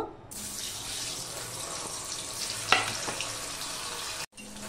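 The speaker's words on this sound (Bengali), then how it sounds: "এই পনিরটা আমি হালকা করে ভেজে নেব।" About 200 grams of paneer fries lightly in hot oil in a pan, a steady close hiss and sizzle with a brief louder crackle midway and a short break near the end.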